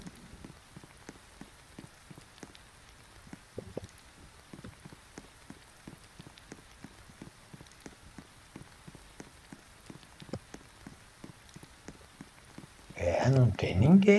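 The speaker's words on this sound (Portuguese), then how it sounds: "Chuva é essa, pessoal?" Rain patters steadily on a surface with scattered sharp drops close by, fairly quiet, until a louder burst of voice or noise takes over near the end.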